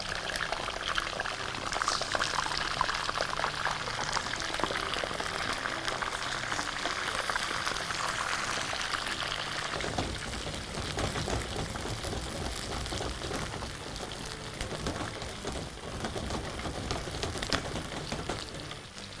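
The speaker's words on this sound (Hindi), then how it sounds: "ठीक है जी, चिकन हमारे पास फ्राई हो रही है" Chicken frying in oil in a pan gives a continuous, close sizzle and crackle, hissing steadily with a slightly busier, bubbling texture in the second half.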